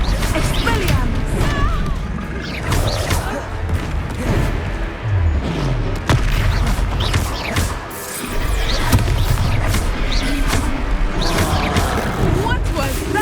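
An Expelliarmus spell is cast at a troll in Hogwarts Legacy amid a chaotic fight, with repeated loud crashes, thuds and whooshing bursts while voices talk over the action.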